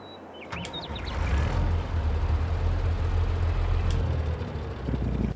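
A Ford F600 truck engine in Farming Simulator rumbles low and steady after a brief start-up, idling continuously with a faint chirp early on.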